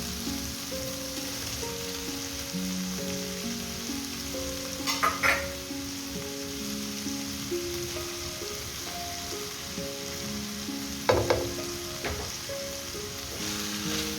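Vegetables and chicken sizzle steadily in a pan for white sauce pasta, a continuous close frying hiss broken by two brief clatters of stirring.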